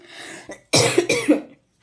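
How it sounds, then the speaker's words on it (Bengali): A dry cough, close and loud: a brief catch, then two harsh bursts in quick succession, with no talking. "এত শুকনো কাশি হচ্ছে না।"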